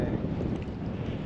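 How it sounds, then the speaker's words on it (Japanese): Wind blows steadily across a bridge over Lake Okutama, a constant low roar buffeting the microphone with no other sounds standing out. "今下流から上流に向かって、風が結構吹いてます"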